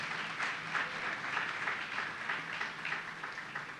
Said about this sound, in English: So everyone, round of applause for her as well.